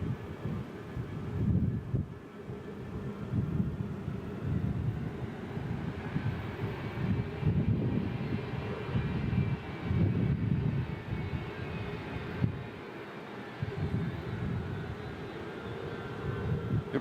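A Boeing C-17 Globemaster III airlifter flies an air show demonstration. Its steady, rumbling jet engine roar carries throughout, with wind noise on the microphone and no talking.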